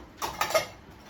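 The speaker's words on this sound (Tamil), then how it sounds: "ஸ்பூன்ஸ் எல்லாம் இங்கே வச்சுருக்கேன்." Metal spoons and dishes clatter as they are set into the rack of a Midea dishwasher, a few quick close clinks and knocks over a quiet background.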